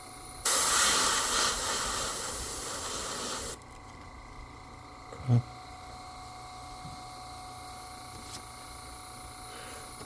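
Airbrush spray gun applying paint to a fishing lure, a steady loud hissing spray for about three seconds that cuts off abruptly, followed by quiet room tone with one brief soft knock.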